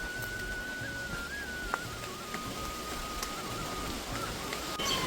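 Rain falls steadily outdoors during a stormy day in a mango-gathering area, a soft, continuous hiss of drops with a faint tonal whine running through it.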